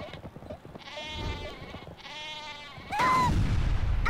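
The sheep weapon in the video game Worms 2 Armageddon bleats in two drawn-out cries, followed by a loud burst and a sharp rising cartoonish squeal near the end.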